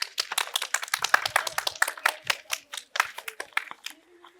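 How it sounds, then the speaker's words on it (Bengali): An audience at a hospital quiz competition claps for a prize winner, a crisp burst of many hands with quick uneven slaps that fades out toward the end, with some talk mixed in. "হাততালি দাও সবাই"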